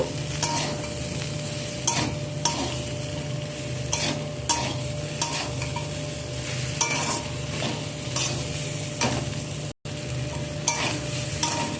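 Spices such as salt, turmeric and chili powder being stirred and sautéed in a hot pan, a steady sizzle broken by regular scraping strokes of the spoon, close and continuous with no talking.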